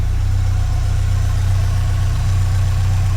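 A Subaru STi engine runs at a steady, throaty low idle close by, a constant rumbling drone with no other sounds over it.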